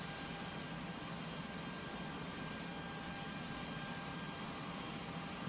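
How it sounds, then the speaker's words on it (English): An APU runs aboard a Tu-154B-2 airliner in a flight simulator, giving a steady, faint jet-like whine and hiss that holds constant throughout. "now that the APU is working, we can start blowing hot air into the aircraft"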